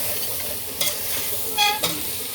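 Chicken fries in a pan under a soft, continuous sizzle, broken by two brief scraping stirs of a utensil against the pan, one near the start and a louder one toward the end.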